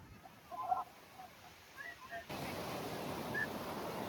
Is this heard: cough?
no